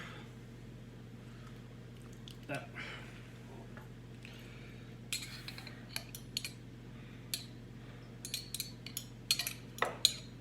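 A utensil scrapes and clinks against a bowl as olives with pimentos are stirred into fish ingredients for a Mediterranean baked fish. The clinks are soft and intermittent and grow more frequent toward the end over a steady low hum.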